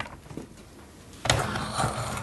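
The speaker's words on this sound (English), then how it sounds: "I just need to pull up this button and pull the cleaner head towards me." Dyson DC25 upright vacuum with its cleaner head assembly being pulled off after a release button is lifted: quiet handling, then a sudden loud plastic clunk and rattle partway through, followed by scraping.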